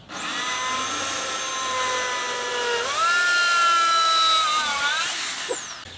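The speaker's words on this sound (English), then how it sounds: "so I'm going to pre-drill these holes." A power drill pre-drilling holes in timber whines steadily at high speed, its pitch rising partway through and again near the end, loud and close with no talk.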